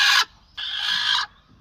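A hen sitting in a nest box on the upper floor of a poultry shed gives two harsh, nasal calls, a short one followed by a longer drawn-out one, close by with no talk.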